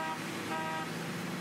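A car horn in the Mafia video game blares in one sustained, slightly muffled honk lasting just over a second at a moderate level.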